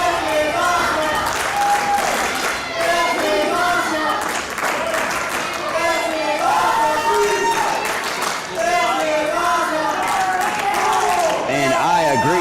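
A pro wrestling crowd roars and cheers at an independent show after all the wrestlers in the ring are down, a loud, continuous wall of shouting and clapping with excited voices in it.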